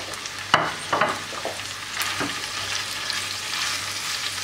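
Ground-meat and mashed-potato börek filling stirred in a pan, a few sharp scrapes and knocks early on over a steady soft sizzle that keeps going, close and quiet, no voices.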